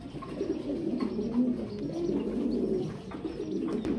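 Pigeons of a fancy short-beaked breed coo in a soft, continuous low murmur, fairly close and steady over a few seconds, with faint background noise and no talking.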